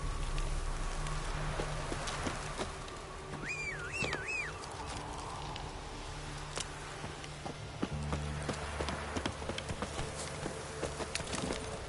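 Horse hooves clip-clopping in The Witcher 3, a steady faint walking rhythm beneath game ambience with insect-like buzzing and a brief whistling tone.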